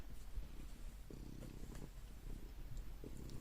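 An orange cat purrs close by, a soft, steady rhythmic rumble with repeating cycles, quiet and alone with no talking.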